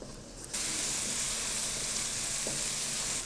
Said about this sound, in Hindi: स्पाइसेस डालने के बाद हम इसको 2 से 3 मिनट के लिए सौते करेंगे